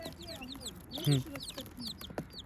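Hens of several breeds and one young rooster cluck and call in a coop; a louder, fuller squawk stands out midway among steady nearby chatter, with a person talking in the background.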